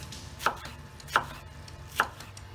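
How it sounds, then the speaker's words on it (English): A sharp Pampered Chef knife slicing lettuce on a cutting board, three crisp evenly spaced chops, close and quiet, with no speech. "Now for the lettuce, slice it up, man."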